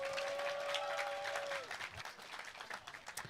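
A crowd claps at a Desak Anies event in Lampung, a dense, sustained patter of many hands with a steady tone ringing underneath at first, then the applause continuing more unevenly.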